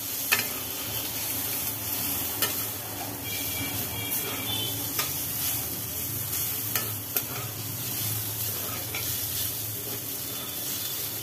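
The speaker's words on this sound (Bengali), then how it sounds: "চিচিঙ্গে ভাজি করে" Snake gourd pieces frying in hot oil in a home kitchen pan, a steady sizzle with spatula scrapes and stirring clinks recurring every second or two, close and moderately loud, with no talking.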